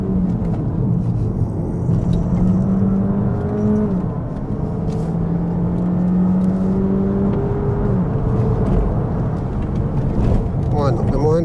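A 2023 Opel Astra GS PHEV 1.6 Turbo 180 accelerating hard in Sport mode with traction control off, engine note rising in steady sweeps through gear changes, close and loud inside the cabin.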